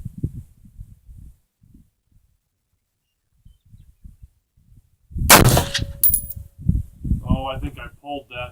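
A single sharp rifle shot from an AR-15 with an 18-inch stainless steel barrel, fired at a steel target, cracks loudly and alone after a stretch of quiet, low rumbling, followed by brief ringing clangs.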